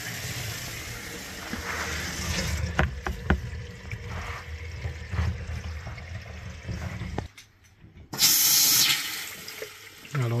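Water runs from a mixer tap fed with hot and cold supplies, a rushing stream with clicks and knocks of handling. It cuts off briefly, then returns in a louder, hissing burst.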